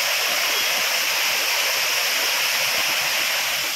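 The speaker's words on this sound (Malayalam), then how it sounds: "പിന്നെ അവിടുന്ന് ചെറിയൊരു വെള്ളച്ചാട്ടം കയറുന്നു." Water pours steadily over the small Areekal waterfalls at Pampakuda near Muvattupuzha, a loud, unbroken rushing hiss close by with no voices or other sounds.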